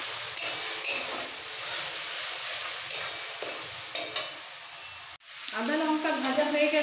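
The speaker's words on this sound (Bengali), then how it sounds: "একটু তেলের মধ্যে একটু ভেজে নেবো যাতে আদার গন্ধটা," Ginger and green chili fry in a little oil for a festive khichuri, giving a close, continuous crackling sizzle with occasional stirring clicks, then a brief break and a fuller, bubbling hiss.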